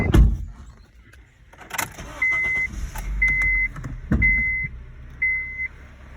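A 2009 Honda Civic that has been in an accident rumbles at low volume while a dashboard chime beeps four times in a steady rhythm, with a few clunks and thumps from inside the car.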